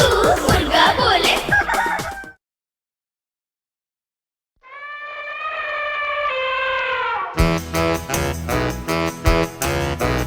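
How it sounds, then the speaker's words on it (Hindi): A rooster crows a rising and falling cock-a-doodle-doo in a children's song, alone after a silent gap, between bursts of bright music. "कुकड़ू कू मुर्गा बोले"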